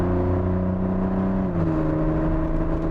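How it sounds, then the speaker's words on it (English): A V6 car fitted with a titanium exhaust revs with a loud, steady droning engine note that shifts pitch partway through, close up, with no talking. "V6s really benefit from the reverberation of titanium. Gives it a very exotic exhaust note."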